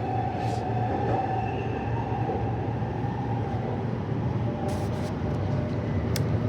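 A Perth suburban train on the Ellenbrook Line rumbles steadily through a tunnel, a constant loud roar of wheels and motor with faint squeals and clanks.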